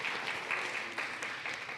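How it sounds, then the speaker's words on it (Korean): A church congregation at a Sunday worship service applauds, a soft, even wash of many hands clapping at once, heard from some distance and holding steady with no voices. "우리 아린이 박수해 주시겠습니다."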